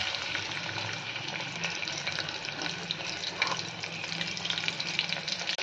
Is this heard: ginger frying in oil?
yes